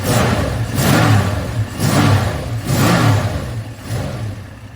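An old Vauxhall Cresta engine revs up four times in a row, each burst rising and falling in a steady rhythm, loud and close.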